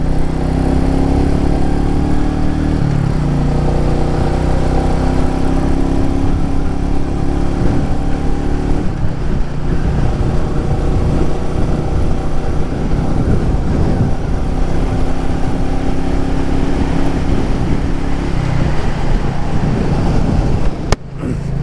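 A Royal Enfield Meteor 350 motorcycle engine runs steadily at close range, a loud low thumping idle with a slight shift in tone partway through and a brief blip near the end.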